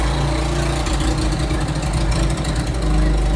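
A vehicle engine runs close by through its exhaust, a steady, loud low rumble that swells slightly near the end, with no voices.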